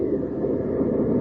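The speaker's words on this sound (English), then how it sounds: "swing aboard our famous talking train" A rumbling train sound effect from an old-time radio drama, a brief low steady chugging roar without any voices.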